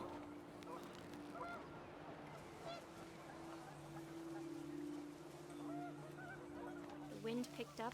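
Panicked geese honking in the video game What Remains of Edith Finch, faint scattered honks over a low wind-like ambient hum and background bed, with a cluster of calls near the end.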